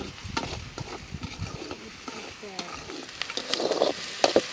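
At a night camp in a mango farm, an egg scramble with plenty of onion fries in a pan. It sizzles close up under repeated scraping and stirring strokes of a spatula, with no talk.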